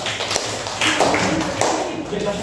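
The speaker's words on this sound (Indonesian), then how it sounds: "Tepuk tangan untuk kelompok domba." A classroom of students claps for the sheep group, a short burst of scattered, uneven clapping, fairly close, with some background voices.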